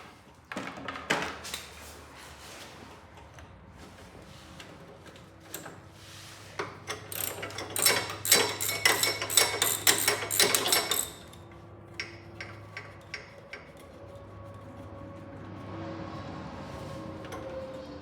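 A ratchet loosens the steering box bolts from underneath a Cub Cadet 1710 tractor, with a few clicks early on, then a dense run of rapid ratcheting and a handful of scattered clicks afterward.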